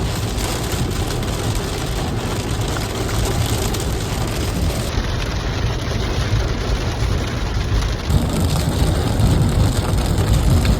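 Heavy rain pours down on a rainy day, a loud, dense, constant wash of drumming water, likely on a car while out doing deliveries, steady throughout with no voices.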